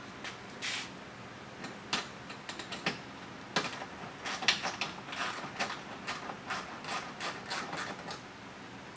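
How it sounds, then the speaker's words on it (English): Phillips head screwdriver snugging up screws on Rokblokz mud flaps being fitted to a 2011-2021 Jeep Grand Cherokee WK2, heard as close, irregular bursts of ratcheting, rubbing clicks with short pauses between turns. "Now we're going to take our Phillips head screwdriver, go ahead and get these snugged up."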